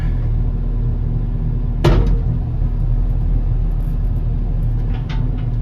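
A Komatsu PC88MR excavator fitted with a hydraulic thumb rumbles steadily at close range, its engine and hydraulics holding a low continuous drone, with one sharp clank of the attachment partway through.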